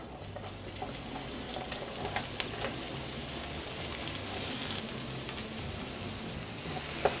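Onions crackle and sizzle steadily in a little oil on a griddle set to 350 degrees, a dense, even frying hiss with scattered pops and no talking.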